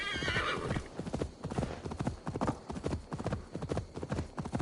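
Horse in the Assassin's Creed Valhalla video game: rhythmic clip-clop hoofbeats of a gallop, with loud neighs and whinnies over the hooves, close and prominent throughout.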